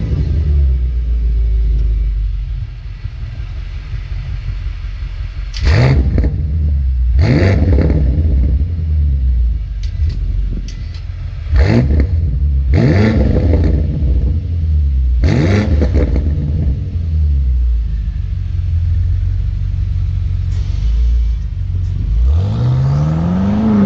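BMW M5 engine on the road, a deep rumbling drone broken by several loud revving bursts and gear shifts, heard close from inside the car with no talking.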